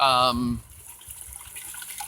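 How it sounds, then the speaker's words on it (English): Water siphoning and gushing out of an aquaponics system, a steady splashing flow under a brief spoken exclamation at the start, then continuing alone at moderate level. "hey, look, it's siphoning"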